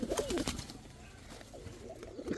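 Pigeons coo at a Bangladeshi pigeon market with gola and chandan breeds on sale, soft throaty calls repeating close by under a busy crowd murmur.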